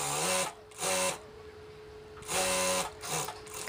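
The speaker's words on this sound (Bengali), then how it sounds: "এরপর এখানে একটা চাপ সেলাই দিতে হবে।" A sewing machine stitches a fabric pillow cover in short bursts, its motor whirring with a steady hum in four separate runs broken by brief pauses, close and fairly loud.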